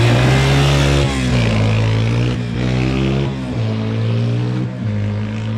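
A Yamaha Big-Wheel motorbike engine drones steadily up close, its tone dipping briefly as it shifts and rides off, loud and continuous with no talking.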